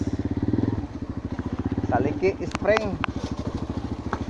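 A motorcycle engine putters close by at a rough steady idle, its throb running throughout while someone talks over it, arriving at Liki Spring in Tabuelan, Cebu.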